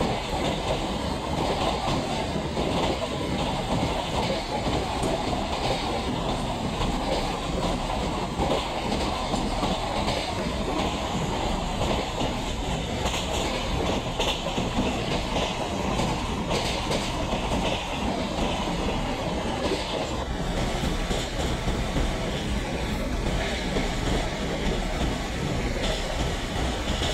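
An MSTS simulator train runs on a loop line, a continuous loud rumble with rhythmic clickety-clack of wheels over rail joints, no talking.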